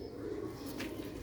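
A high-quality pigeon kept by a fancier gives a soft, low coo that lasts about a second, faint and close, over a quiet background hum.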